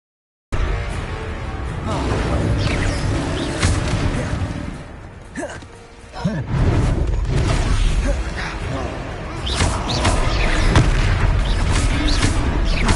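Repeated Confringo explosion spells in Hogwarts Legacy burst as heavy booms and crackling blasts amid game effects, with a brief quieter lull in the middle before the blasts resume densely.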